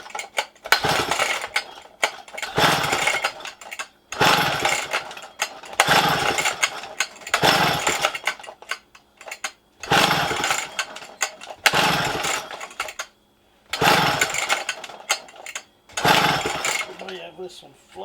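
A flooded vintage 1960s McCulloch 300 chainsaw is cranked repeatedly without catching. About eight loud, rasping bursts come at a fairly even rhythm, separated by short pauses, with a voice audible alongside.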